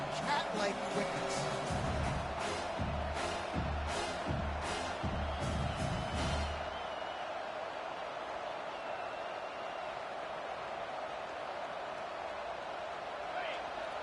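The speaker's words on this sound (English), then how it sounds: "Third down, and this crowd is tearing the lid off this place." Stadium crowd roaring on a third-down play in the College Football 25 video game, a dense steady wash of cheering with sharp bursts over the first six seconds before settling into a continuous roar.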